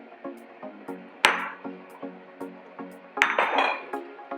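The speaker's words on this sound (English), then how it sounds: "The 1 cup of flour all goes in." A cup of flour is added to hot melted butter in a pot on the stove for gougère dough, bringing two sharp metallic clanks of pot and utensil over a steady low cooking hum and soft clinking.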